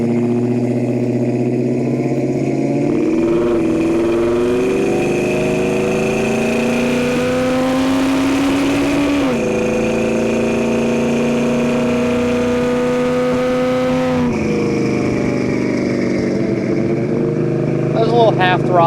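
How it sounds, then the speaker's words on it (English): A 1969 Plymouth GTX V8 pulls hard at half throttle, its engine note climbing steadily through two long rising sweeps with a shift between them, loud and close inside the cabin, with talk over it. "There's a little half throttle, nothing too aggressive, but it pulls very strong."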